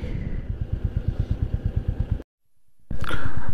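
A motorcycle engine on a road chugs in close, steady, evenly spaced thumps, then falls silent briefly before a louder, smoother engine roar returns.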